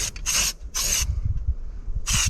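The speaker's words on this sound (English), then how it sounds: "because this paint's really thick, it's not very easy to spray" A spray can sprays thick paint in three short, loud hissing bursts with brief pauses between, close by and alone with no talk.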